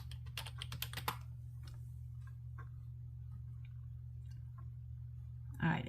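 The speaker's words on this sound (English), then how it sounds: "Let's type in Santa diamond painting." Typing a search on a computer keyboard, a quick cluster of close key clicks at first, then sparse scattered taps over a steady low hum.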